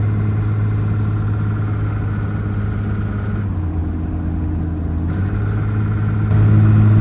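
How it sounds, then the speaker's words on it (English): A race car engine idles steadily with a loud, low, droning hum that holds even throughout and swells slightly louder near the end. "hear how loud the car is"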